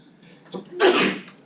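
A single sneeze close by, a quick intake followed by a loud burst, in a quiet room during a math lecture.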